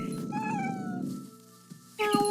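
Cat meowing in the video game What Remains of Edith Finch: one drawn-out, rising-and-falling meow up close, a short pause, then a second brief cry, heard alone without talk.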